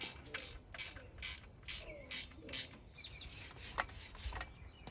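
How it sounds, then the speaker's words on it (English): A ratchet wrench loosens the stem clamp bolt on a mountain bike, clicking in a run of evenly spaced rapid bursts, then a few scattered metallic clicks and small knocks close by. "Ratchet wrenches are awesome, guys. You can just let them rip like that."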